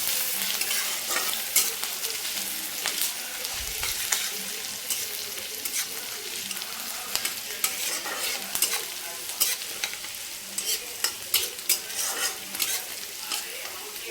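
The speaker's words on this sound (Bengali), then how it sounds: "তো এটাকে এখন ভালো করে ভেজে নেবো" Chopped ginger, garlic and whole garam masala fry in a pan with a constant close sizzle, punctuated by repeated scraping and clinking as a utensil stirs them, with no talking.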